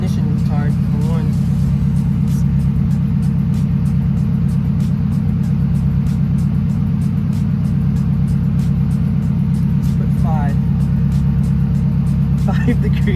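A K-swapped Honda car engine holds a steady, loud drone with rapid pulsing and brief spikes during flat shifting, running continuously throughout, with talk over it.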